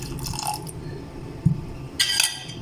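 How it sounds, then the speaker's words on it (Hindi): A little water is poured into a bowl of barley and gram flour paratha batter in a home kitchen, heard as short splashy trickles and a soft liquid plop, with a brief clink of the vessel. "थोड़ा सा पानी और जाएगा"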